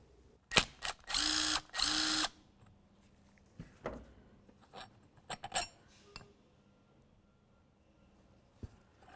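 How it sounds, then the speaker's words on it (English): A ratchet works the transmission mount through bolt on a 2002-2006 Honda CR-V: quiet metallic clicks, two loud rattling ratchet bursts early on, then scattered taps and clinks. "we'll go ahead and take out that through bolt"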